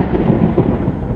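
Thunder from a summer storm with lightning, a low, sustained rumble filling the whole moment, loud and broad with a rolling texture and no voices over it.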